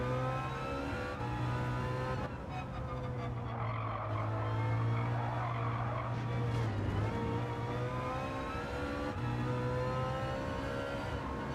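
A race car in Gran Turismo 7 spins round after a wheel catches the grass, its engine holding a steady droning tone that dips and wavers as the car rotates, then settles back to a sustained hum. No speech.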